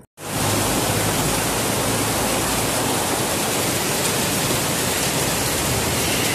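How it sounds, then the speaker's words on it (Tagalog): Heavy rain pours down in a loud, constant broadband hiss, heard from shelter during a downpour outdoors, with no speech. "Lakas ng ulan, guys."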